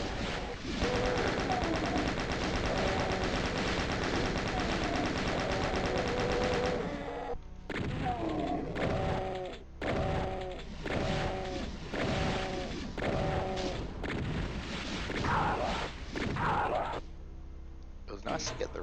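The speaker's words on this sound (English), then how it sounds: "Since we've got it, why don't we blow ourselves up?" Rocket launcher fire and explosions in the game Doom, a dense run of blasts and roaring booms followed by a series of separate sharp detonations and bursts, loud and close, with someone talking over parts.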